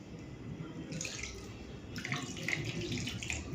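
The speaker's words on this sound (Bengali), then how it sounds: "বেশ এইটুকুনি জল দিলাম, আর দেবো না।" Water poured into a pot of cauliflower and potato curry, a soft splashing trickle that starts after a second, pauses, then resumes with gurgling drips, close but fairly quiet and with no talk.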